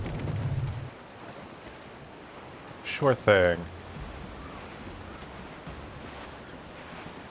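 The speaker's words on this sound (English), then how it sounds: "There's a strong wind now." Steady wind and ocean waves rushing around a schooner under sail in Assassin's Creed 4, a constant broad roar throughout, with a man's short spoken reply heard briefly over it.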